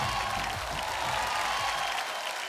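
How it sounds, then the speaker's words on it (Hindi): A crowd at the Bhojpuri International Award show applauds Pawan Singh, with dense, steady clapping and crowd noise that stays fairly even throughout the moment. "तालियां फॉर पवन"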